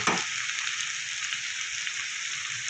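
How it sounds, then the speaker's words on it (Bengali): Potatoes seasoned with salt and turmeric fry in hot oil with a loud, steady hiss and crackle, a brief clatter at the start and no voices. "আলুটা আমার ভাজা হয়ে গেছে নুন হলুদ দিয়ে।"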